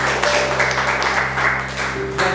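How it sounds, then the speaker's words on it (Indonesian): Classmates applaud together in a classroom during a student group film presentation, a steady, dense patter of clapping running for a couple of seconds at moderate loudness with no talk over it. "Tepuk tangan dulu, teman-teman"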